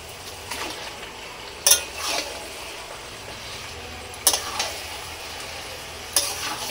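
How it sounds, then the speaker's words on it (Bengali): Spice paste frying in a pan with a little water, a soft steady sizzle broken by three sharp spatula knocks and scrapes against the pan, close by. "তো এখন সুন্দর করে একটু কষিয়ে তারপরে আর কি মাংসগুলো দিয়ে দেব।"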